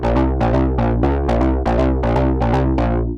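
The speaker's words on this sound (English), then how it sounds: "Found this dark acid sound in my Amethyst preset pack." A gritty, distorted acid synth line pulses in steady staccato notes, each with a sharp resonant sweep, loud and continuous.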